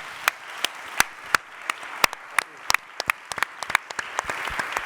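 Sparse audience applause at a film talk event, a modest scattering of distinct claps at an irregular rhythm, fairly close, with no voices over it.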